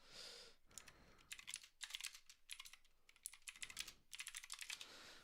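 Computer keyboard typing rattles close to the microphone in quick bursts of clicking keys, with short pauses between flurries and no talking, during a live stream.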